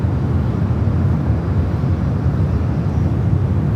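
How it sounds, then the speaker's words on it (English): CRJ regional jet rolling down runway 1 right at San Francisco International Airport on takeoff, a steady, loud, continuous engine roar and rumble with no talk over it. "Got a CRJ now rolling down at 1 right"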